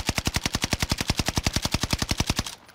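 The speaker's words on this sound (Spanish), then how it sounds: "solo estoy disparando por disparar" Rapid automatic fire from a BREN with a thermal scope in Warzone, an unbroken stream of about thirty evenly spaced loud shots over two and a half seconds, then stopping abruptly.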